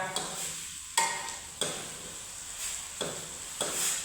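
Beef frying in a pan, a continuous sizzle punctuated by regular scraping strokes of a spatula stirring the meat about every half second, close and moderately loud.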